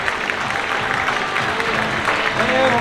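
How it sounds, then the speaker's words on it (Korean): An audience at a Korean newlywed couple's event claps for the couple with dense, steady, loud applause that lasts throughout, and a crowd murmur sits underneath it. "뜨거운 박수로 맞이해주시기 바라겠습니다"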